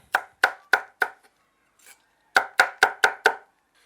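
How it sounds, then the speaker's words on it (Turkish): A knife chops deseeded peppers into not-too-small pieces on a board: four sharp, close chops in steady rhythm, a pause, then five more quick chops, loud and alone. "Biberlerimizin tohumlarını aldıktan sonra böyle çok aşırı küçük parçalar olmayacak şekilde doğruyoruz"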